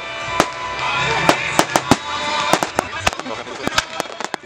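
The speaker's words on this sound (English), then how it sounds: "Is anybody trying to see no goddamn fireworks?" Fireworks and firecrackers go off in a rapid, irregular series of sharp cracks and pops, some close and loud, others fainter, over a steady crackling background, with people talking underneath.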